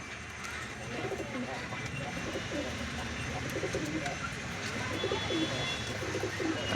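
Mated pairs of old-generation red-headed pigeons coo in a loft, repeated throaty rolling calls that overlap in a continuous murmur with faint chirps above.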